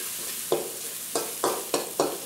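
Aderezo with ground pepper cooking in a pan for a quinoa and shrimp dish, giving a soft steady sizzle broken by several louder stirring scrapes at regular intervals, close and with no talk.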